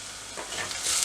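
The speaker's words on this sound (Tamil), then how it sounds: "வெங்காயம் இந்த அளவு வதங்கினா ஓகே இருக்குது" Chopped onions sautéing in a pan for mor kulambu, a steady close sizzle with short stirring scrapes that swell toward the end.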